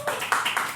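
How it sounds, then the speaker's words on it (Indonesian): Brief hand clapping, a few quick claps in a short burst, fairly close, with no voices. "Iya tepuk tangan dulu."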